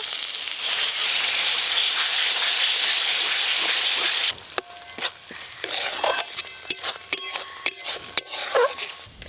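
Spice paste with poppy seed and melon seed paste frying in a pan for a tilapia curry: a steady loud sizzle, then a sharp hiss followed by scraping and clattering as a spatula stirs, no talk.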